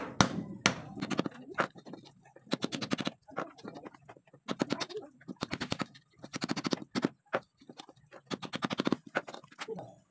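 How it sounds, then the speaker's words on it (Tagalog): Hammer blows on a flat screwdriver prying up a part inside a washing machine, sharp metallic taps in irregular bursts and short rapid runs, close and fairly loud, with no talking. "So gumamit lang ako dito ng flat screw at saka martilyo."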